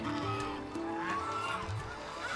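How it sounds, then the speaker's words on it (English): A large domestic lion-head goose honks and calls several times in a row, close and fairly loud, with other fowl noise faintly in the background. "The lion-head goose is 2 to 3 times larger than other domestic geese."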